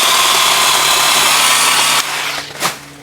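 A TACKLIFE 8-inch electric pole saw cuts through a tree branch with a loud, steady buzzing whine up close, then drops in pitch and fades as the cut finishes.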